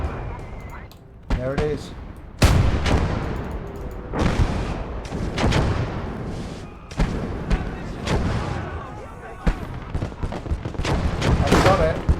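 Heavy gunfire and artillery blasts from a video game battle boom in bursts one after another, loud and close, while players talk over the barrage throughout.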